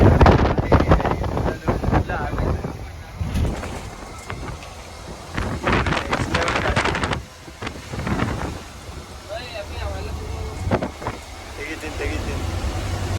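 Strong wind roars over a moving vehicle on a road trip through Tamil Nadu, loud and continuous with heavy buffeting gusts throughout, while voices talk beneath it.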